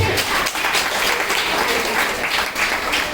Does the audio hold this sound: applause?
yes